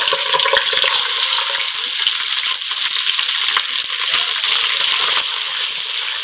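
Loud, hissing sizzle of water hitting a hot pan of frying onions with ginger and garlic, crackling and bubbling continuously up close.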